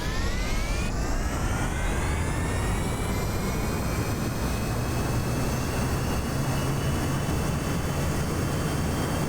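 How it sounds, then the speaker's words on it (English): Jet airplane engine in Kerbal Space Program roars steadily through a takeoff, with rising whining tones and a constant loud rumble and no voices. "Successful flight takeoff."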